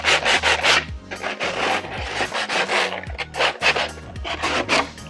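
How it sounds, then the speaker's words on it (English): Rhythmic rasping strokes of 120 grit sandpaper lightly working the edge of a model tank, close and loud, in repeated back-and-forth bursts with short pauses. "Just lightly sanding the edge there."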